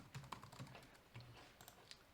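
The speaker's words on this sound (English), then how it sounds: "But if I start typing some information" Someone types on a computer keyboard, a quiet, irregular run of soft key clicks with brief pauses and no speech.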